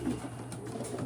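Pigeons coo softly and steadily from young birds kept in a loft, a low repeated murmur running through the whole stretch at moderate distance with no talking.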